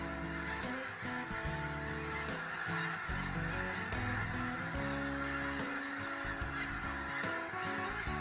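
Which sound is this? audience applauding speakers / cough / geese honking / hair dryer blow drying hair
geese honking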